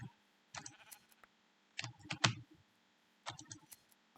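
Minecraft sheep bleating during play, a few short faint bleats in separate bursts, mixed with keyboard clicking and a quiet background.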